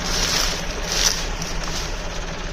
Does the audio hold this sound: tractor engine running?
yes